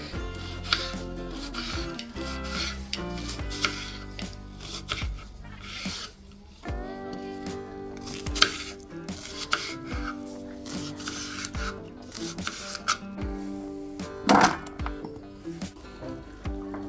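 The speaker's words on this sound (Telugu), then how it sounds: "నీట్గా చిన్న చిన్న ముక్కలుగా అయితే కోసేసుకున్నాం" A knife chops bottle gourd into small pieces on a board, rapid uneven chopping strokes close up and fairly loud over a faint background tone, with a brief pause midway.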